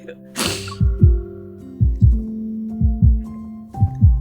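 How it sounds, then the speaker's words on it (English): Heartbeat sound effect speeding up: deep, booming paired thumps in a lub-dub rhythm, loud and close, repeating several times with the beats drawing closer together over a soft sustained hum. "I hear my heart beating faster and faster."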